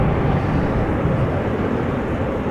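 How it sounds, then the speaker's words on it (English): A Boeing 747 taking off at Amsterdam Schiphol Airport, bound for Luxembourg, gives a loud, steady, broadband jet roar that holds level throughout, with no voices over it. "Another 747 taking off from the wrong runway"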